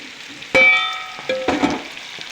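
Ginger and tomato dropped onto capsicum in a hot pan for chicken chili, with the steady sizzle jumping into a loud hiss as they land and flaring again a second later, close and without voices.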